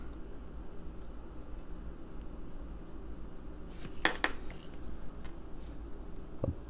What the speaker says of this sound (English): A ball bearing came out.